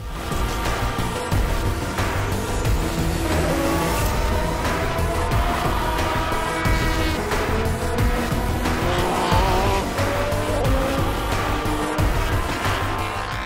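Endurance race cars lap the Shanghai circuit during the 2017 FIA WEC 6 Hours, engines screaming and shifting as cars pass close in quick succession, with tire squeal and a loud, dense, continuous roar.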